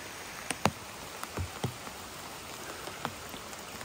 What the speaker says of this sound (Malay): Hujan daripada tengah hari tadi. Tak berhenti-berhenti.